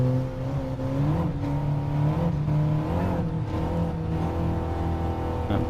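A race car idling and revving in place on the grid before the start in Gran Turismo Sport, a steady close engine drone with wavering pitch as the throttle is blipped, with no talk.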